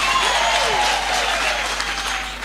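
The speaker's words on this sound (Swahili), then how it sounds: "jipigeni makofi." A church congregation claps together in loud, dense applause that lasts the whole time and tapers off slightly toward the end.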